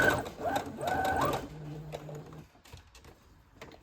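Sewing machine back stitching while making a puffy bow keychain, a short close run of rapid mechanical stitching that trails off, with a faint voice underneath.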